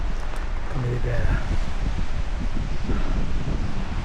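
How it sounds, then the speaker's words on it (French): Strong wind buffets the microphone on a coastal footpath near Le Brusc, a steady broadband roar holding throughout with faint surf beneath, while someone talks over it. "Le vent forci."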